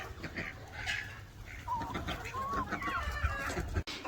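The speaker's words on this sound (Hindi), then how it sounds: "ये देखें जी सारी मुर्गियाँ आ चुकी हैं।" Chickens gathered in a yard cluck and chirp nearby in a busy, overlapping chorus, with steady background noise throughout.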